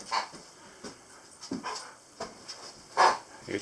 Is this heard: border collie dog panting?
yes